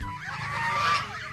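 A goose honking, one drawn-out nasal call lasting about a second over a low background rumble.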